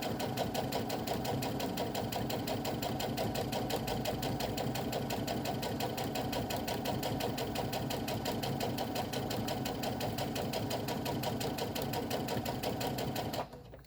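Sewing machine running steadily while stitching an iPhone pocket, a continuous rapid mechanical whir and needle chatter close up, unbroken for the whole stretch before stopping abruptly at the end.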